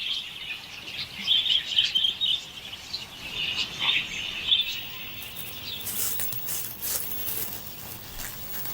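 Budgies chirping, a steady stream of small, high twittering calls over several seconds, moderately loud, with a busier burst of chirps near the end.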